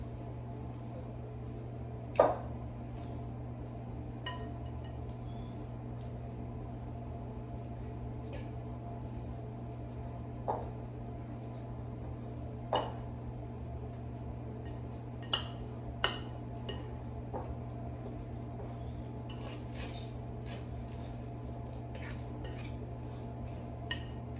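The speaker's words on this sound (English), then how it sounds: "So I'm just going to mash a banana with a fork in my mixing bowl." A fork mashes a banana in a mixing bowl, giving sparse, light metallic clinks and scrapes against the bowl, spaced seconds apart over a steady low hum.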